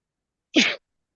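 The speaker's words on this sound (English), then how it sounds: "I'm cutting the grass right here. It's gonna make me sneeze." A single sharp sneeze, brought on by freshly cut grass during an outdoor workout, bursts out close and loud, then silence.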